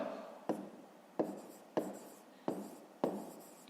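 A pen writes an answer by hand during a fifth-grade maths exercise, producing five scratchy strokes at a steady rhythm, each starting with a sharp tap and fading. They are close and fairly quiet, with no talking.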